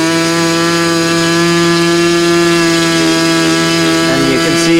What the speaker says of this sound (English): and you can see as it's turning it, the engine note changes